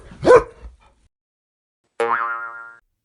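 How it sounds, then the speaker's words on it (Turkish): A dog gives a single sharp, close bark, followed after a pause by a longer springy, twanging tone against otherwise silent surroundings. "köpek"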